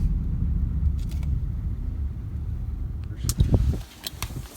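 A 2010 Nissan Murano SUV rolls along with a steady low road rumble and engine hum from inside the cabin, followed near the end by a few sharp clicks and a brief louder thump.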